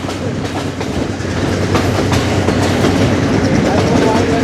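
Passenger train running on rails in Sri Lanka, heard close from on board as a continuous heavy rumble with rhythmic clickety-clack of the wheels that grows slightly louder over the stretch.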